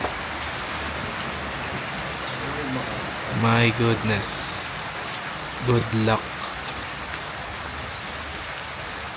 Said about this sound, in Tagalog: Lakas ng ulan, check nyo.